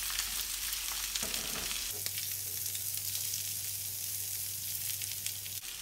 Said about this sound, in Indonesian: Kemudian tumis bawang putih bawang merah.